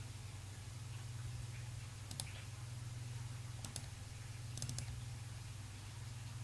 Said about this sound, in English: Let me double click it again.